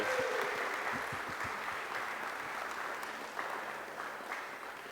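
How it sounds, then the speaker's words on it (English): Steady applause from a tournament audience, a continuous wash of clapping held at moderate distance and fairly faint, with no speech over it. "Can we have a huge round of applause for our 2 players"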